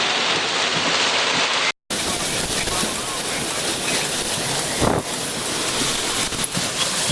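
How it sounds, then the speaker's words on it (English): Extreme wind buffets a car in a severe thunderstorm in central Pennsylvania, a loud continuous roar of gusts and driving rain against the body, with a brief cut near the start and a surge midway. "This might be the most wind I've ever taken on in this car."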